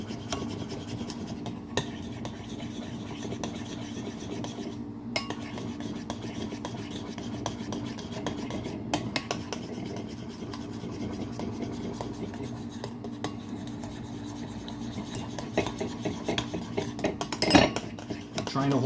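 A spoon whips cream by hand in a bowl, producing continuous scraping and clinking of metal against the dish that runs steadily throughout, with a couple of brief pauses and a louder clatter near the end.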